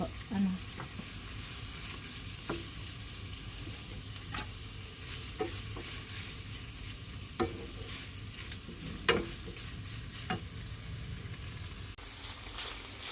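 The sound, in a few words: chicken sautéing with garlic in a pan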